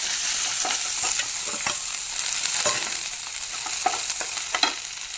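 Chili sizzling and frying in hot oil for a kappa puzhukku dish, a steady crackling hiss punctuated by sharp pops and stirring scrapes, close and continuous with no voices.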